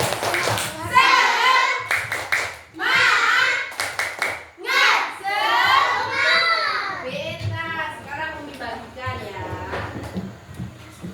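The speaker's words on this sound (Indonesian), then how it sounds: "Ayo, tepuk semangat dulu. Tepuk semangat." Children in a classroom do a rhythmic spirit clap, with short bursts of patterned clapping mixed into loud group chanting by young voices, close up throughout.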